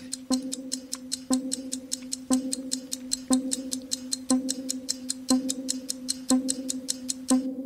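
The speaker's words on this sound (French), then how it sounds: "10 secondes, tic-tac." A ticking clock countdown in a quiz game beats out a steady, even tick-tock about once per second, clear and close, with no talk over it.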